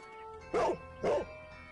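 Dog barking in the Sherlock Holmes: The Devil's Daughter video game, two distinct barks about half a second apart over a quiet background hum.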